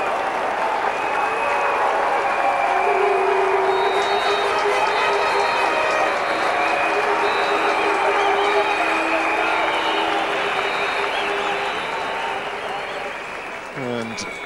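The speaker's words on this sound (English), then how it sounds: "Curtly Ambrose, just opening the door. Applauding his batsman." Sustained crowd applause and cheering at a 1998 cricket match at the ARG in Antigua as a batsman reaches fifty, steady and full throughout, with a commentator talking over it.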